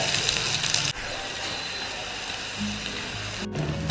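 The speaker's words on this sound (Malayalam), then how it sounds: "നമ്മളിതിൻ്റെ ഒരു സൈഡ് ഏതാണ്ട് പൊരിഞ്ഞു തുടങ്ങിയിട്ടുണ്ട് അപ്പോൾ നമ്മളിതെല്ലാം മറിച്ചിടുകയാണ്" Cabbage and egg sponge bites frying in oil in a pan, a dense continuous sizzle with crackling spatter, fairly close and loud, briefly dipping and shifting as the pieces are moved around.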